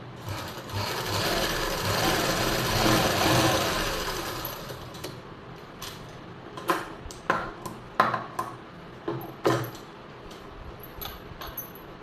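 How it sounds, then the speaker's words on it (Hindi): Sewing machine stitching a dart on a blouse lining, running in a steady continuous whir for several seconds, then stopping, followed by a few sharp clicks and taps of handling nearby. "ये मैं तीसरी डाट पर भी ऐसे ही सिलाई लगा लूँगी"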